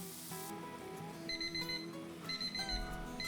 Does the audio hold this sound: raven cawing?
no